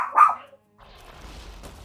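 A dog outside gives a single sharp bark at the start, then falls quiet, leaving only a soft, muffled rustle of background noise.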